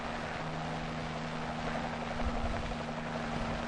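An ARVN military helicopter lands during Vietnam War construction of a Self-Defense Corps post, its engine a continuous loud roar and whine with a steady low droning hum, heard alone without voices.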